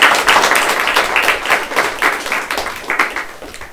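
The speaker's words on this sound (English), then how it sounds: "Please join me in celebrating and honoring them with a big round of applause." Audience at an academic research presentation event gives a big round of applause, steady dense clapping close and loud throughout, gradually tapering slightly toward the end, with no talk over it.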